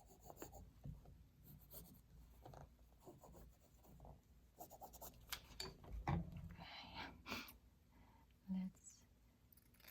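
A pen scratches across paper in a collage journal, with soft, quiet strokes in irregular bursts and faint breathing and rustling close by.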